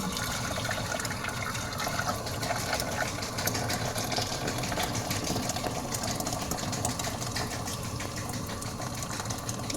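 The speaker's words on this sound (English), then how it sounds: "we're putting the hot water in" Hot water being poured during home cooking of steaks, a steady rushing, gurgling pour that runs continuously and fairly close, with no talking.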